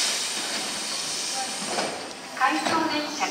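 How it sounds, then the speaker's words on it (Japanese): A Tobu 10030 series out-of-service train pulls away from Narimasu station with a steady hiss and rumble of wheels and rail, growing slightly louder near the end, with station announcements faintly in the background. "回送電車が発車します。"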